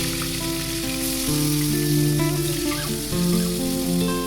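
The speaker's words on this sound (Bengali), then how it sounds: "এবার কড়াইয়ে আমি পরিমাণ মতো সরিষার তেল একদম খুব ভালোভাবে গরম করে নিয়ে মাছগুলো দিয়ে দিলাম।" Fish pieces sizzle loudly and continuously as they fry in hot mustard oil in a kadai (wok), with background music playing alongside.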